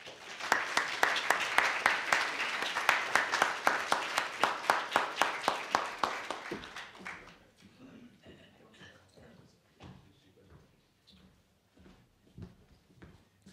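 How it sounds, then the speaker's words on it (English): A seated audience at a dedication ceremony claps for a city council member in a loud burst of applause lasting about seven seconds, then thins to a few scattered claps and rustling. "please give our City Council member Chris Tolbert a round of applause as well"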